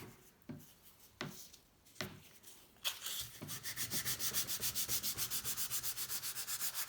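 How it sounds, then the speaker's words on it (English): A Honda C70 piston rubbed with sandpaper, starting with a few separate scrapes, then settling into fast, even back-and-forth strokes that repeat steadily, close and fairly quiet. "going to finish off this sandpaper"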